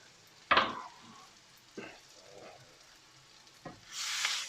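Chillies tipped into a pan of chicken jalfrezi curry, giving a few sharp sizzling bursts with stirring in between and a louder hiss building at the end, fairly faint overall and without speech.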